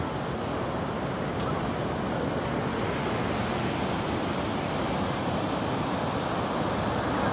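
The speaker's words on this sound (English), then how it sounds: "Them are some big waves, okay? Some big waves." Big ocean waves break on a beach at New Smyrna Beach, Florida, as a dense, steady roar of surf. It is loud and continuous with no distinct breaks, and wind-like noise blends into it.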